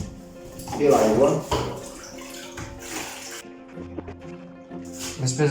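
Water poured into a bowl of organic flour and seeds for bread dough, a splashing, gurgling pour that surges loudly early on then trickles in shorter bursts, with brief clinks and quieter pauses between.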